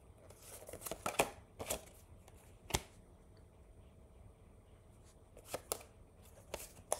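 Tarot cards shuffled and drawn by hand, giving soft scattered riffles and crisp slaps spread irregularly, close and fairly quiet with no talk.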